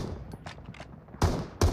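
Gunshots at a shooting tournament tiebreak final, two sharp, loud reports cracking out close together after quieter handling noises and faint background voices.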